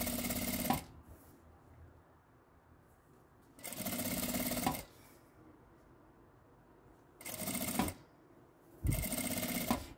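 A sewing machine stitching along the edge of bias tape on a dish towel, running in four separate bursts of steady rapid whirring and clatter with quiet pauses between them.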